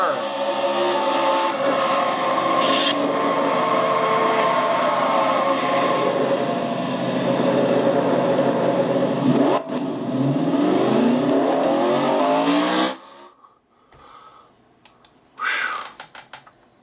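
Onboard engine of the number 25 Kodiak Chevrolet in a racing video game, a loud steady roar with shifting pitch sweeps for about thirteen seconds, then cutting out abruptly, followed by brief bursts of noise.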